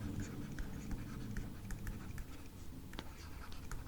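Pen or pencil writing out structural engineering equations on paper, a steady soft scratching patter with small taps and pauses, close and quiet, no talking.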